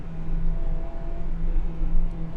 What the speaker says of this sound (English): let's just hear the sound of this car.